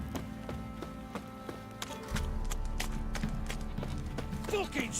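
Horse hooves clip-clop in a steady rhythm through The Witcher 3, the taps regular and close, over a continuous game background with music and ambient noise, while a voice talks over the scene.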